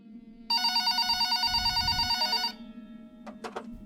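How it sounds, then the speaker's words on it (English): A telephone on a counter rings with one sustained two-second electronic trill, followed by a few short clicks. "the phone on the counter rang."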